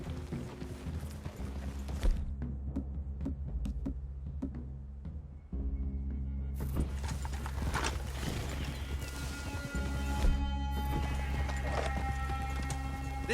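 Horses walking in the video game Red Dead Redemption, with soft repeated hoof clip-clops and an occasional whinny over a steady low game soundscape, the hoofbeats fairly faint and irregular.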